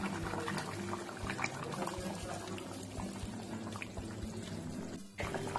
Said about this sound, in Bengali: আর একটু গরম জল দিয়ে দিচ্ছি।